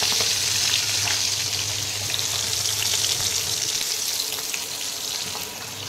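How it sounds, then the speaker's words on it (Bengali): Eggplant slices frying in hot oil in a home kitchen, a steady close sizzle that carries on without a break, with no talk over it. "কলা ফ্রাই হয়ে গেছে, এবার বেগুন ফ্রাই।"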